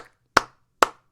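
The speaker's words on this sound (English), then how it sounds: "Some shit, it's just a bunch of claps" Two sharp hand claps about half a second apart, crisp and close, each fading quickly into silence, from a previewed rap song.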